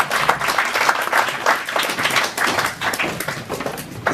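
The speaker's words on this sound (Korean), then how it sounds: "좋은 얘기 들려주신 기자님들께 박수 부탁드립니다." Audience applause at a book concert meeting the authors: a dense, steady crowd of hand claps filling the room, loud and continuous without a break, with no talk over it.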